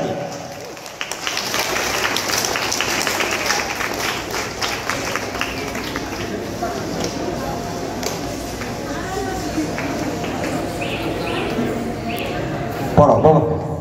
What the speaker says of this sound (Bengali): জোরে হাততালি হবে, হাততালি থামলে হবে না।